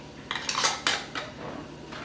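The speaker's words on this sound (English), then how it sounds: "Now I'll put these jars in my canner." Glass canning jars set down into a metal canner one after another, giving several sharp clinks and knocks in quick succession over about a second, close and clear with no talking.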